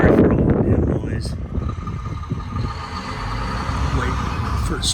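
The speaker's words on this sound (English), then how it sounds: "Wait for this truck to leave." A truck rumbles past outdoors, loudest at the start and fading to a low engine drone with wind buffeting the microphone, while someone talks over it.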